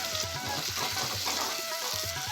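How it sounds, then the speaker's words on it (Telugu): Tomato puree frying with ginger garlic paste in a pan while cooking a chicken gravy, giving a steady close sizzle with soft stirring scrapes throughout and no talking. "వేసుకొని బాగా వేయించుకోవాలి"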